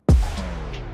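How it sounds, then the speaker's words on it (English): Full instrumental mix in FL Studio hit with a tape stop effect: loud music that starts abruptly and immediately slows, its pitch sliding downward as it winds to a halt within a second. "I added a tape stop, so it sounds like this."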